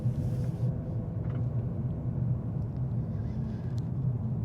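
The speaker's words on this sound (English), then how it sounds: "Boy, the road noise, huh? It's really something." Low, steady road rumble inside a Mercedes-Benz C300 rolling over loose gravel, a continuous dense drone filling the cabin with no talking.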